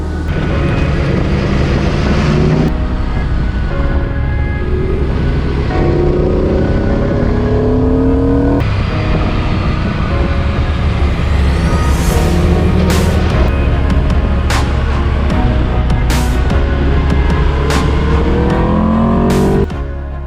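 An Aprilia RSV4 1100 Factory V4 superbike is ridden at full throttle, its engine screaming loudly as it climbs through gears in repeated rising sweeps with brief shift breaks, sustained and close throughout.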